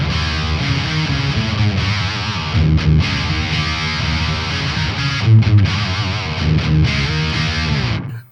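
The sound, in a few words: guitar octaver with fuzz distortion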